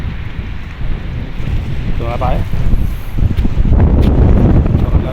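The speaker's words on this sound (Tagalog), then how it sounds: "Parang lalakas yata ng hangin." Strong, gusty wind roars and buffets the microphone throughout at a seaside fishing spot by the Marina Bridge in Abu Dhabi, with a short spoken phrase partly buried in the rumble.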